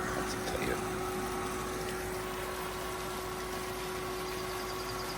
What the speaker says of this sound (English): So I'll backwash that for a little while.